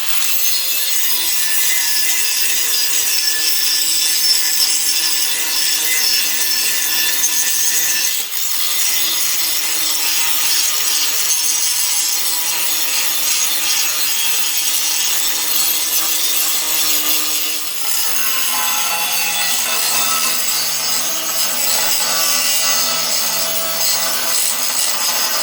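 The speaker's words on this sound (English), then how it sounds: "I'm going to go ahead now, and I'm going to grind all this up." Continuous loud metal grinding as welds are ground down on a homemade metal build, a steady abrasive whine holding for the full stretch with only brief dips in pitch, no voices over it.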